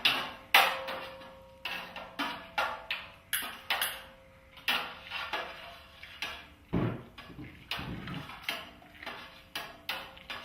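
A spoon stirs malt extract beer wort with Hersbrucker hops in a brew pot on the heat, giving a steady run of sharp knocks and scrapes against the pot, close and fairly regular, with no talking.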